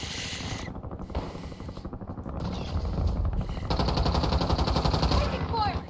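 Gunfire in Warzone Resurgence, with rapid automatic bursts and single shots crackling through the match, loud and dense, alongside in-game ambience and a brief radio-style voice cue.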